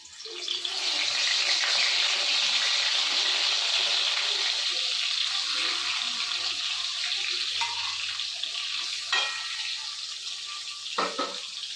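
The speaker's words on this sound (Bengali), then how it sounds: "তো এখন তেলটা গরম দিয়ে বেগুনটা ছেড়ে দেবেন এখন আমি বেগুনটা ছেড়ে দেবো" Eggplant frying in hot oil in a kadai, giving a loud, close, continuous sizzle that fills the whole stretch with only small pops and flares near the end.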